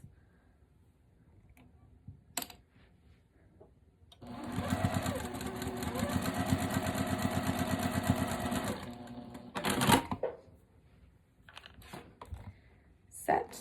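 A sewing machine runs in one steady burst of rapid stitching, sewing small quilt fabric squares right sides together along the bias, with quiet handling noises before and after.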